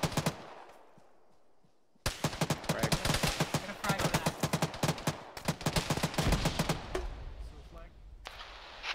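Rapid bursts of .50 caliber machine gun fire in a military video game crack out loudly in a dense, sustained stream, beginning after a quiet opening and tapering off near the end.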